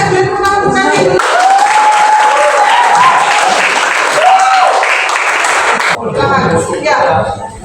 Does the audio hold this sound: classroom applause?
yes